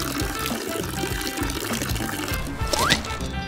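Hot water pours and splashes close up for a few seconds, a continuous gurgling flow used to melt ice, loud and alone with no talk.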